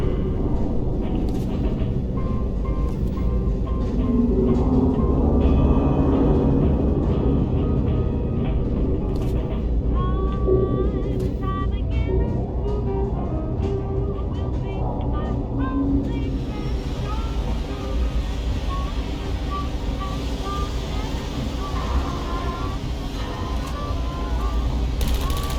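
A train ride in the game Portal: Stories Mel rolls into a station, with a steady low rumble, scattered mechanical beeps and tones, and a voice talking over it.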